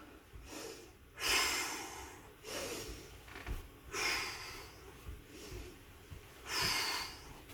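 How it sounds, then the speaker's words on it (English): Deep breathing during a Brazilian jiu-jitsu back and neck stretch, with several slow, audible inhales and exhales, close and fairly quiet, in a regular rhythm without talking. "breathe nice and deep as you're going round"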